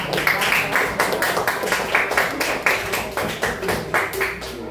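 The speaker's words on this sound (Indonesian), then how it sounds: "kita beri apresiasi tepuk tangannya untuk saudari Salwa" A classroom of students claps for a fellow student, the steady, rhythmic hand claps close and fairly loud, continuing throughout with no talk over them.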